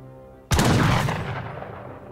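A single loud rifle shot in Age of Empires 3: Definitive Edition, an instant sharp crack with a short rumbling tail that fades over about a second and a half.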